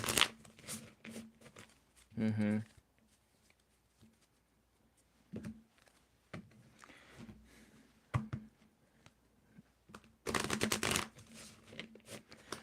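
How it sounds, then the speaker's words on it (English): Thick tarot cards are shuffled in short papery bursts, with a louder riffle near the start and a long dense one toward the end, separated by quieter handling noises and a few taps. "I'm going to give it a good shuffle. I wish these cards were thinner."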